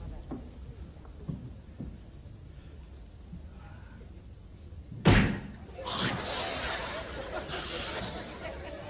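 A car door slams shut with a loud, sharp thump, followed by muffled rustling and car-interior noise. Before it, quiet background sounds and faint laughter from an audience can be heard.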